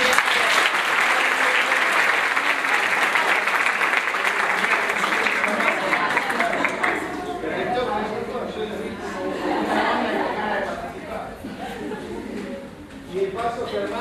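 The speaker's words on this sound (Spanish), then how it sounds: "Un aplauso." Audience applause, loud sustained clapping from a crowd for several seconds that gradually thins into scattered claps and chattering voices.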